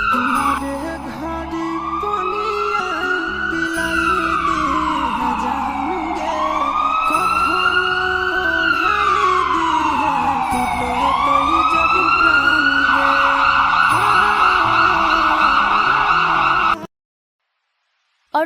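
An ambulance siren in a Hindi cartoon wails, rising and falling in long sweeping cycles, loud and continuous, then cuts off abruptly near the end.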